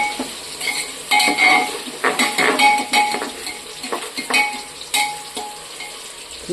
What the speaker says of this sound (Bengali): এবার আমি পেঁয়াজটাকে একটু নুয়ে দিচ্ছি